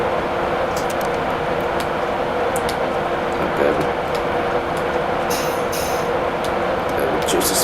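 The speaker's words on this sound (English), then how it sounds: "I'm going to put this, reduce power now to enable the train to coast." Steady rumble of a train rolling and coasting under reduced power in Train Simulator 2017, a continuous even drone with faint clicks on top, no voices.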